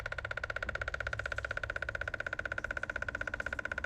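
A small liquid transfer pump runs steadily, pushing fluid from a gas tank through a narrow tube, its motor giving a fast, even pulsing hum close by with no talk.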